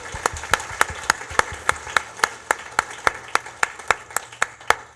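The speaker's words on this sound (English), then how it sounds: "I think that deserves a round of applause" At a real estate seminar, a single person claps in a steady, even rhythm, about three sharp claps per second, close and distinct over a quiet room.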